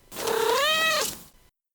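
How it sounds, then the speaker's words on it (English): A single drawn-out cat meow, clear and close, rising and then falling before it cuts off into silence. "It just looked at the milk, looked at me, and started meowing again."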